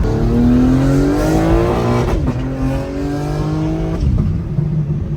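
A 2023 BMW M4 Competition engine revving hard and climbing in pitch, dropping briefly at two gear shifts before pulling again, loud and close.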